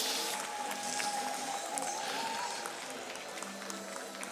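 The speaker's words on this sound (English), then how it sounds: "Let's give these teams a round of applause for all their hard work these last" Spectators at a FIRST robotics district event in Houston clap for the teams, a broad wash of applause filling the arena at an even level before slowly thinning.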